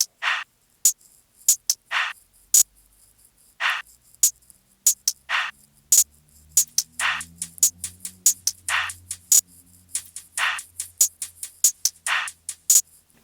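Sparse, crisp hi-hat hits tick out an uneven pattern with gaps between them, and a soft low tone hums in the background.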